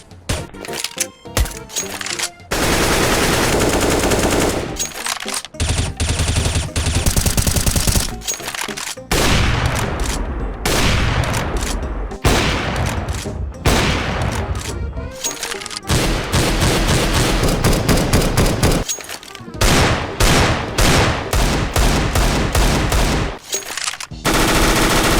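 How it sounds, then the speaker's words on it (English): Rapid bursts of gunfire from Counter-Strike: Global Offensive rattle loudly in repeated volleys, separated by short pauses between each sequence of shots. "Here's what some of them sounded like in comparison with the gun sounds now."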